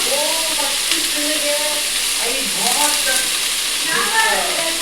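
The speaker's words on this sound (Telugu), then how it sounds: "జస్ట్ షాలో ఫ్రై చేసుకోండి" Tomatoes, capsicum, onions and boiled corn shallow frying in oil, giving a steady broadband sizzle throughout with faint voices talking over it.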